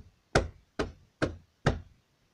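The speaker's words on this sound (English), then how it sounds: "When suddenly, there was a knock on the door." Four sharp knocks on a door, close and loud, evenly spaced at about half-second intervals against a quiet background.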